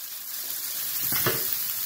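Onion, ginger and garlic fry in butter and extra virgin olive oil for an elk or venison stir fry, giving a steady close sizzle that swells briefly as it is stirred.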